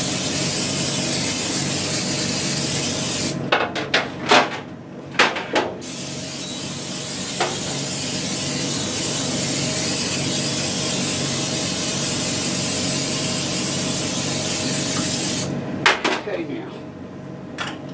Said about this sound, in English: Spray some olive oil, cooking spray in it.